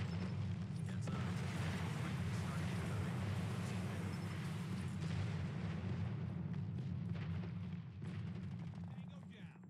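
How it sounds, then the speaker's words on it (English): A dense, sustained low rumble of airstrike explosions roars through a Call of Duty Mobile frontline match, rolling booms blending into a continuous wall of noise, with an announcer voice and scattered game effects on top. "Enemy airstrike incoming."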